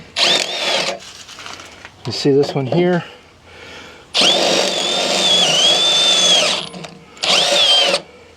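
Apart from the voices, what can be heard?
drilling holes with a 1/2 inch drill bit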